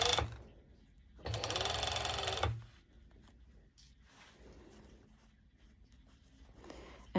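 A sewing machine stitches through layers of stretchy fabric for pole dance shorts, first a short burst and then a steady whirring run of about a second, followed by quieter handling and rustling of the fabric.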